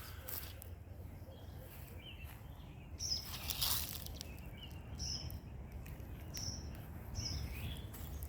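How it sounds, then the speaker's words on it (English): Faint birds chirp intermittently in the distance over a quiet, steady outdoor background hiss at a riverside campsite in the Northern Cape. "I'm going a bit quiet there because of the bird noise."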